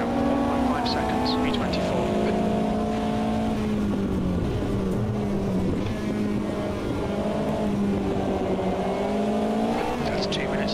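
Race car engines in a racing video game, a loud droning whine that rises and drops as the car shifts and brakes through corners, continuous and close with an occasional second car passing.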